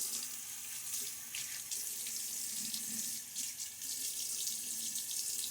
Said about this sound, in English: Got to get my face wet before the shave.